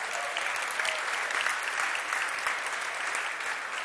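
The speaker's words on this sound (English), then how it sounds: "Let's give them a round of applause." Steady applause from an audience at an evening benefit event, following a live band's set, a dense, even wash of clapping heard from a distance without a break.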